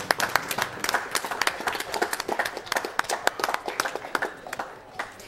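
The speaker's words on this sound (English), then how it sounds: "one more round of applause for Coolkid" Audience applause for the winner of a grand-finals game tournament: dense, steady clapping from a small crowd, fairly close, lasting the whole stretch without talk.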